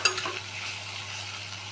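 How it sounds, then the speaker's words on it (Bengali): Chopped onions frying in hot oil, heading toward golden brown, give a steady, even sizzle throughout with a brief louder burst at the very end; no one speaks. "এখানে আমি এখন তেল গরম হয়ে গেছিলো, এখানে আমি পেঁয়াজ দিয়ে দিয়েছি অলরেডি ভাজা হতে।"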